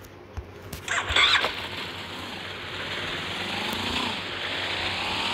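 A motorbike engine starts in the video game Free Fire MAX with a short burst of revving, then settles into a steady, fairly loud idle hum.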